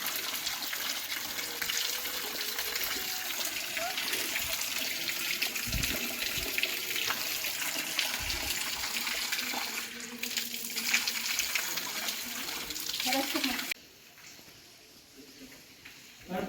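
Holy water flows steadily at a Keshavraj temple in Asud, Dapoli, Maharashtra, a continuous near splash and trickle that runs for most of the clip before dropping abruptly to a quieter background near the end.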